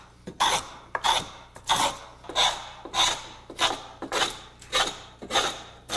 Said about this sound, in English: I start the rough carving with a small Japanese scrub plane